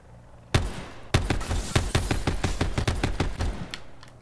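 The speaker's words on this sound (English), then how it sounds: "Oh, but I can shoot at this guy real quick." Gunfire in the Call of Duty Blackout battle royale, two sharp shots followed by a rapid burst of about a dozen close, loud rounds in uneven rhythm.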